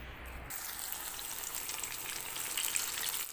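Eggplant slices fry in oil in a pan, a broad continuous sizzling hiss that stays close and fairly loud, swelling slightly toward the end, with no talk.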